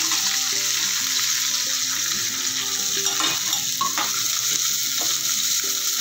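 Peas, green chilli, curry leaves and onion frying in a pan, a loud continuous sizzle with occasional stirring scrapes and clinks, heard close with no speech.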